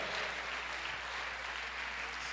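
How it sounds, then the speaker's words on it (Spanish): Congregation applause at an evangelical church service, a steady full-room wash of clapping with a low hum underneath. "Dale un fuerte el aplauso al Señor"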